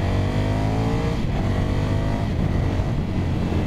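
A car accelerates hard on a grip-testing track, its engine note climbing steadily and loudly close to the microphone, with no talking.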